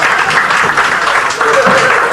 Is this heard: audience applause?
yes